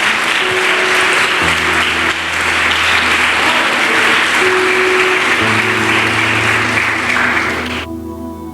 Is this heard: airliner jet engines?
no